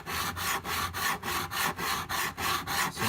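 Diamond files grinding guitar frets with steady back-and-forth rasping strokes, about three per second, close and loud with an even rhythm.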